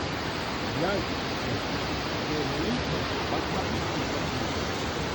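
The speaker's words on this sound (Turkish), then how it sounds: "mağaranın içinden çıkan bir kaynak suyu" Spring water flows out of a cave in a steady, close rushing wash of broadband noise, with a voice speaking faintly beneath it.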